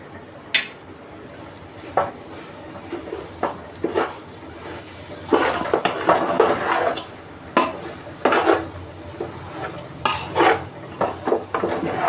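Modak filling being mixed in a pan after cardamom and nutmeg are added: a spoon scrapes and knocks against the metal in irregular bursts, close by, with a faint dog bark in the background.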